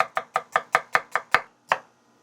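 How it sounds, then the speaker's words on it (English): A knife slices an onion on a cutting board in nine crisp, evenly spaced close chops, the last coming after a short pause, with no talking. "All we're going to do is slice this onion."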